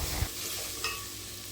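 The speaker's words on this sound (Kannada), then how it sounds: "ನಾನು ಉಪ್ಪು ಹಾಗೂ ಹಳದಿನ ಹಾಕಿ ಸ್ವಲ್ಪ ಒಂದು ಸತಿ ಫ್ರೈ ಮಾಡಿ" Food frying in a pan with salt and turmeric gives a steady close-up hiss, with a soft knock early on and a light metallic clink midway.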